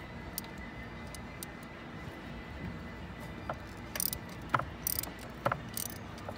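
A ratchet on a 12-inch extension with a 3/8-drive 5/8 spark plug socket loosens a spark plug on a Jeep JK, giving a few quick clicking bursts over a steady insect-like background hum.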